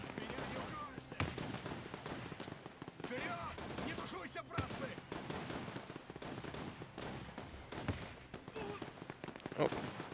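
Battle gunfire from Men of War 2 rattles on through a fight over a German town, with dense rifle and machine-gun bursts and scattered blasts, fairly faint and continuous.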